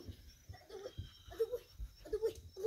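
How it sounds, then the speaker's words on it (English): A pit bull terrier makes short, repeated whining, whimpering sounds at close range, coming in quick bursts between soft breaths and scuffles. "This is what I gotta go through with these crazy dogs."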